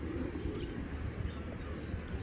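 Giribaz pigeons cooing at a pigeon farm in Bangladesh, a soft continuous low murmur of several birds with faint higher chirps, close by and unbroken throughout.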